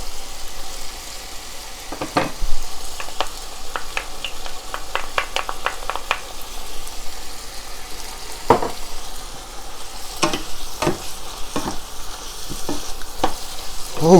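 Szechuan shrimp sizzle steadily in a hot pan as sauce goes in, the frying hiss running throughout with sharp clicks and scrapes of stirring scattered across it, close and fairly loud.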